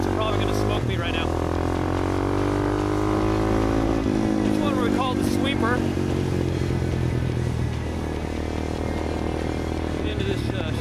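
A supermoto motorcycle roars on a race track at Adams Motorsports Park, its engine loud and close as it climbs and drops in pitch through acceleration and shifting, with wind rush throughout.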